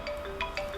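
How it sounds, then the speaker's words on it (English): A short burst of an electronic phone ringtone plays a few quick melodic tones, clear and alone. "the phone's ringing."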